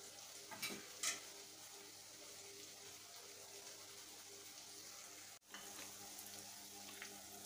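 Mutton and spices fry in a pan for a curry, a steady close hiss of sizzling with a few brief clinks of stirring near the start.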